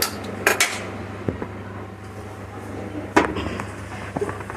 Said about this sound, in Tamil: இதை அப்படியே தூக்கி நாங்கள் ஸ்டவ் மேலே வைக்கிறோம்.